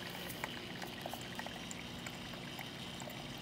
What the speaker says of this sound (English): watch what happens to the flow of the river